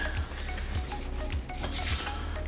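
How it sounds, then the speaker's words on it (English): Soft toilet paper rubbing and wiping against a hard bathroom surface to clear sanding dust, in repeated strokes, close and quiet, with light scraping and faint clinks. "we're gonna wipe that down with some toilet paper"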